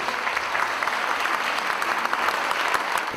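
Audience applause for writer-director Michel Hazanavicius at an American screening event, a dense, steady wash of many hands clapping without pause, loud and close throughout.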